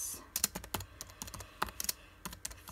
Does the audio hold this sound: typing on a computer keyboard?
yes